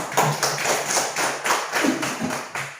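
A third-grade class claps together in a quick, steady rhythm, a run of evenly spaced sharp claps filling the room with no talk over them.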